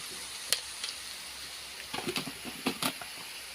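Turmeric frying in oil in a pan while being stirred, a quiet sizzle with soft scrapes and small clicks of the spoon.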